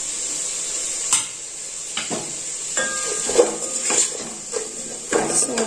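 Tomatoes and coconut fry in a pan with a soft continuous sizzle, while a spoon stirs them in several separate scraping strokes, close and without talk.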